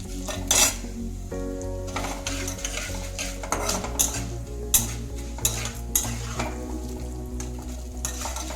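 Spices for a lotus root curry crackle and sizzle in hot oil while a metal spoon clanks and scrapes against the pan in bursts; no one speaks.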